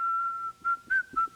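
A person whistles a Christian hymn melody, a clear steady tone that holds, breaks off briefly, then returns in three short rising phrases, close and alone with no talking.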